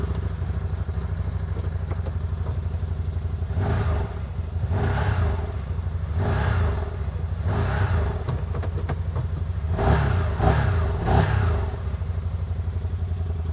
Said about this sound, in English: I'm gonna end by firing it up so you can hear the V-twin motor